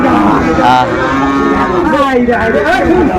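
Loud, drawn-out moos from cattle close by at a cattle market in Sirajganj, one long low call after another over a noisy crowded background.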